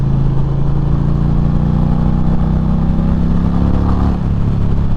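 A 2023 Indian Challenger motorcycle engine runs steadily at close range, a continuous low, throaty drone with a faint mechanical clatter and no voices.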